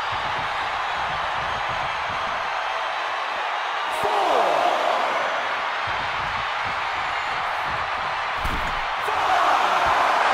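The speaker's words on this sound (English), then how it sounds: "The sound of this crowd is deafening, and he's asking for more." A wrestling arena crowd during an Iron Man match cheers in a continuous roar that surges twice, with a few sharp thuds from the ring cutting through the noise.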